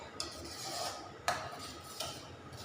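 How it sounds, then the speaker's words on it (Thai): Dipping sauce being stirred in a pan over low heat, with soft, steady scraping and three brief clinks of a utensil against the pan, quiet and close with no talk. "ใส่ไฟอ่อนขัวไปเรื่อยๆจนน้ำจิ้มเขาเหนียวข้นเอาก็พอเนาะ"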